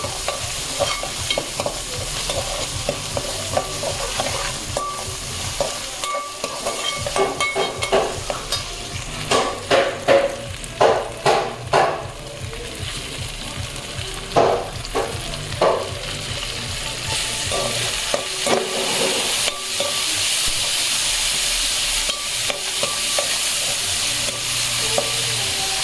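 Mutton frying with mint and coriander in a pan, a continuous sizzle under repeated scraping stirs of a spoon, with bursts of louder clattering strokes midway and no talking.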